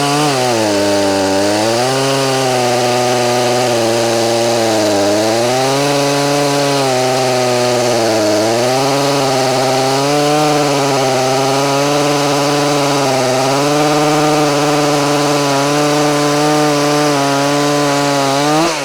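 A Bilt Hard chainsaw runs loud and close as it cuts wood, its engine note rising and dipping in repeated swells as the chain bogs into the cut and revs back up, with no voices.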